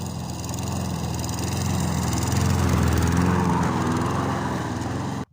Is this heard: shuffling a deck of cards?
no